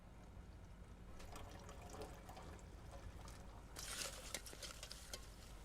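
Acetone is poured slowly and then mixed, a faint liquid trickle and sloshing with soft intermittent splashes and a brighter rush near the end, quiet and close.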